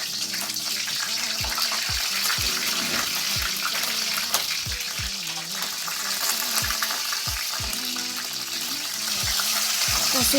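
Chicken wings fry in hot oil, a loud steady sizzle with sharp spattering pops at irregular intervals over a constant hiss.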